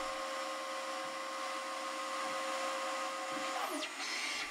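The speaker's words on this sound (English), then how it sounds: "Now we're using a 3/16 end mill to trace around the outer edge of that pocket." A CNC mill runs a 3/16 end mill around the outer edge of a pocket in a machined tray, giving a steady, loud, broadband whine with constant tonal lines and a brief rising-then-falling sweep near the end.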